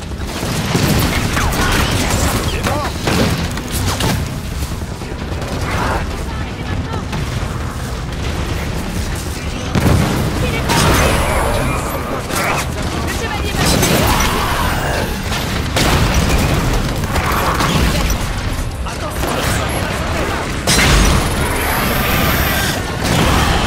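Gunfire and explosions from the Halo 5 video game: continuous loud booms, crashes and bursts of shots over a dense, sustained battle din with no pauses.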